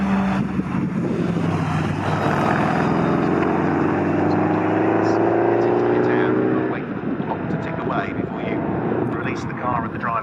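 A 3.2-litre Porsche Boxster S race car in a modern classics race at Snetterton drives into the pit lane, its engine note droning loudly and rising, then receding after several seconds while a commentator talks over it.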